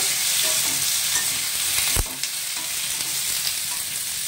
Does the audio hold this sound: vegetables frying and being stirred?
yes